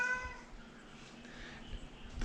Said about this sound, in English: The cat wants to tell the story